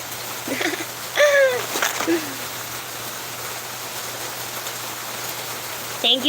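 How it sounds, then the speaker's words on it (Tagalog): Rain falls in the rainy season as a steady, even hiss, with a few brief spoken words and sounds near the start and again at the very end. "You see? Raining season."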